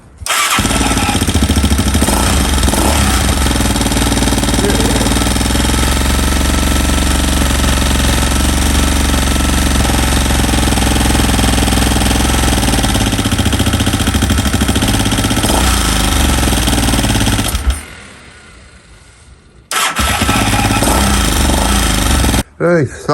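A quad bike fitted with a new PWK30 carburettor starts and runs loud and close, its engine note shifting with the throttle, then cuts out for a couple of seconds before firing back up near the end.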